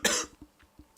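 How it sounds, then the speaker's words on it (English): A single loud, close cough, followed by a few faint, soft throat sounds while a Hearthstone Arena match plays on. "Sorry about the cough."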